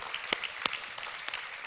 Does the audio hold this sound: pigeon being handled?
no